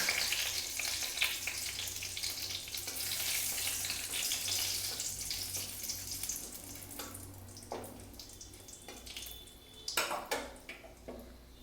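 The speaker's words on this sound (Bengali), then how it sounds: "এবারে ফোড়ন দিয়ে দেবো তেজপাতা, দারচিনি, এলাচ।" Bay leaf, cinnamon and cardamom tempering in about a spoonful of hot white oil in a kadai, a steady close sizzle with intermittent clinks and scrapes of a utensil against the pan, no talking.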